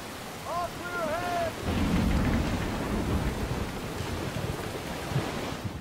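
Rain and a rolling thunderstorm in the video game Call of Cthulhu: Dark Corners of the Earth aboard a boat at sea, a dense steady downpour with low rumbling thunder, after a brief high wavering call early on.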